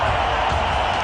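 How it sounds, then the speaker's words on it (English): A cricket crowd at a 2007 T20 World Cup semifinal between India and Australia sends up a loud, steady roar of cheering and shouting through the stadium. "This crowd is getting very vocal"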